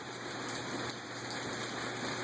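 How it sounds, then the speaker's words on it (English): Steady rain falls and patters on a surface close by, a dense continuous hiss with no voices and no thunder. "Are you playing in the rain?"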